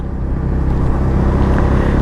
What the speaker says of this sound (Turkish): Şu egzozun sesi için bile değer